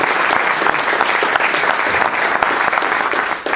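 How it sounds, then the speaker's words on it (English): Steady, dense applause from a Rotary gathering audience honoring Skip, continuous clapping filling the room with no break. "Round of applause for Skip"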